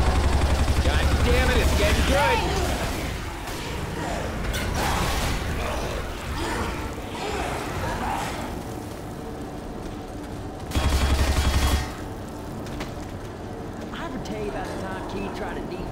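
Bursts of gunfire crackle through a video game custom campaign battle, loud volleys at the start and again midway, with scattered shots between and voices talking throughout.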